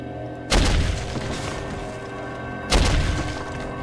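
Two booming gunshots in the shooter game Soldier of Fortune, spaced about two seconds apart, each a loud heavy blast with a long rumbling decay.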